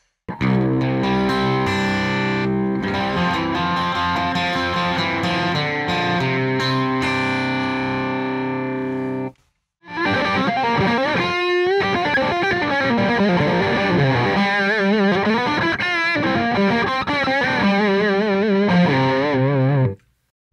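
Heavily distorted electric guitar played loud through a Super Crush 100 tube amp, straight in, with sustained chords, a brief pause midway, then bending lead lines with a gritty, saturated edge.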